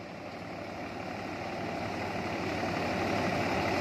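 A tractor engine running steadily at a threshing machine, a continuous broad mechanical drone with low rumble, moderately loud and slowly swelling, with no talk.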